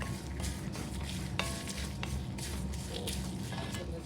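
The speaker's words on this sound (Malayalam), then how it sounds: "ഇതെല്ലാം എണ്ണയില്ലാതെ ചീനിച്ചട്ടിയിൽ ഡ്രൈ റോസ്റ്റാണ് ചെയ്യേണ്ടത്" Coconut and spices dry roasting in a pan without oil for Kerala sadhya sambar, heard as a steady soft crackle with scraping stirring strokes, close up.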